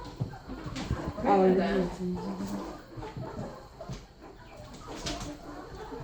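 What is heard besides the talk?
rescued chickens and roosters clucking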